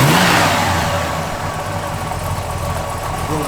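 A 1969 Chevrolet Chevelle SS V8 with an aftermarket cam revs loud and close. A rough, throbbing rumble is strongest at the start, then eases back toward a lumpy idle.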